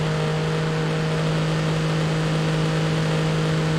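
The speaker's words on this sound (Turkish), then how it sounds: "Bak deli gibi şu anda pati atıyor 3. viteste." In BeamNG.drive, an SUV engine holds a loud, steady high-rev drone with a constant whine while the wheels spin in third gear on an icy, snowy road, continuous throughout with no talking.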